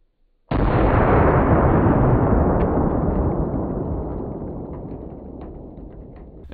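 A single .500 Magnum revolver shot fired at a car windshield, a sudden loud blast that rings out and decays slowly over several seconds, with faint clicks in the fading tail.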